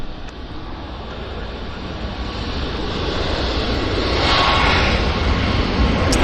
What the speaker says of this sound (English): I can hear those engines. So Philippines is rolling thunder.